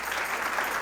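A church congregation applauds the Lord during a sermon on tithes and offerings, a brief burst of dense clapping.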